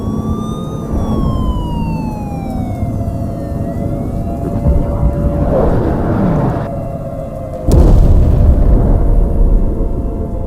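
An airstrike lands close to a residential building in wartime: a sudden heavy blast swells into sustained rumbling noise, preceded by a steady wailing siren with sliding tones over a constant low din.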